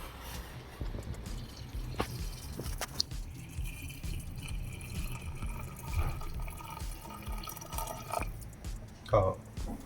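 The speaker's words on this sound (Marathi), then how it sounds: "आता मी काय करतो हे पाणी याच्यामध्ये टाकून घेतो" Hot water trickles and splashes faintly into a pot of mutton curry amid quiet kitchen background noise, with a few soft clinks and a short louder splash near the end.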